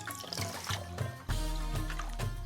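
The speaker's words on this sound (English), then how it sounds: "Gonna add some water." Water pours steadily into a pot holding eggs, a continuous trickle and splash heard close up after a few soft handling knocks.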